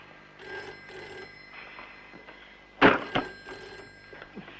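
An old-style telephone bell rings in a classic Bollywood film scene, with clear metallic bursts repeating in a steady pattern and sounding fairly close and loud, broken by a sharp thump partway through.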